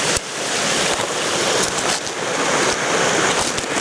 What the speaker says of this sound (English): Famous double waterfall, viewing.